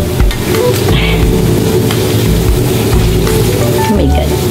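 A burger patty made from saba banana peel sizzles and fries in a pan, a loud, steady crackle with scraping and stirring noises as it is turned.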